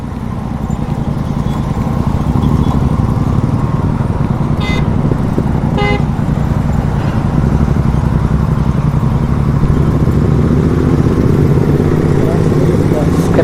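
A motorcycle engine roars loudly and steadily on a ride toward a hill fort, with a couple of brief horn toots partway through and someone talking over the continuous drone.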